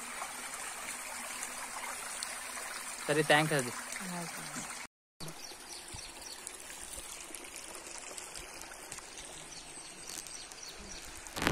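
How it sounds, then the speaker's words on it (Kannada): Water flows steadily at the Ranganatha Swamy hill temple in Niralla near Hassan, a continuous rushing stream under brief nearby talk, with a short break partway through. "ನೀರು ಹೋಗುತ್ತೆ."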